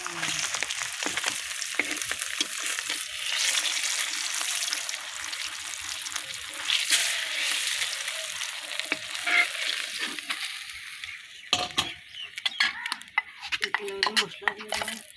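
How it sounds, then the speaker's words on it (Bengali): Fish fries in a pan in a home kitchen, a constant oily sizzle with spatula scrapes and clinks of pots and utensils, growing choppier near the end. "মাছ ভাজা হয়ে গেছে"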